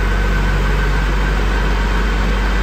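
Opel 1900 showroom stock sedan engine running steadily in fourth gear on a dyno around 1500 RPM, a loud, constant low drone and hum with no break.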